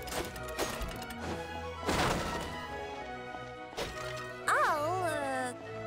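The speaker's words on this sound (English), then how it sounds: "Can't you destroy the boxes a little more quietly?" Repeated crashing and smashing impacts of breaking boxes, with cartoonish game sound effects and voices chattering over the action.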